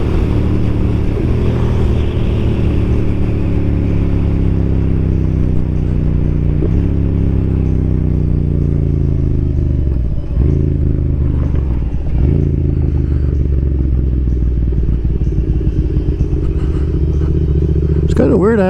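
Yamaha MT-07 motorcycle cruising on a highway in Minnesota, its engine droning loud and steady throughout with gear shifts and pitch changes, wind rushing, while the rider talks over it.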